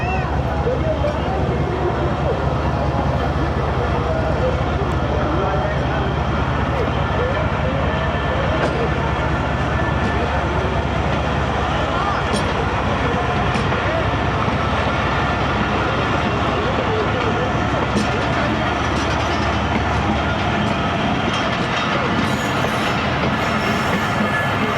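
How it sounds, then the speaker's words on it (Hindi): The 14 Down Awam Express pulls out of Mehrabpur station bound for Karachi Cantt, a loud continuous rumble of rolling wagons with wheel clatter and occasional squeals, close by, with a voice faintly under the noise. "अब रवाना होने लगी है 14 डाउन अवाम एक्सप्रेस"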